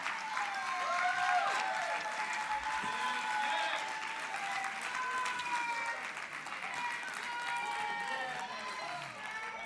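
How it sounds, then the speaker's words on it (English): Church congregation clapping at a sermon, a sustained wash of hand claps layered with music tones and voices, fairly quiet and continuous. "give God a hand clap."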